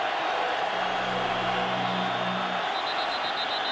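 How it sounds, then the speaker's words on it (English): A college football stadium crowd in Arizona, on its feet during a night game against BYU, roars in a broad, steady wash of cheering, with a brief horn tone rising beneath it. "This Arizona crowd on its feet tonight."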